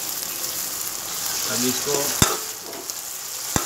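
Grated chili and garlic sizzle steadily in a pan with golden fried onions while being stirred for chole, with a loud continuous frying hiss, a few sharp utensil knocks, and brief speech over it.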